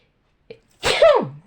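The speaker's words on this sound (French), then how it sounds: "Je ne vais pas tarder à éternuer" A single close sneeze with a short sharp intake before it, then a loud explosive burst trailing off.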